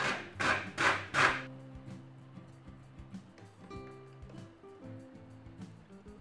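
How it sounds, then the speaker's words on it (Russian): Fresh pumpkin rasped on a fine grater, with three loud, close scraping strokes up front, then softer scratching over background music and no talk. "На мелкой терке натираем тыкву."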